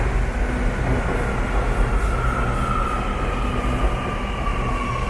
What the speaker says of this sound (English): There's the train coming in.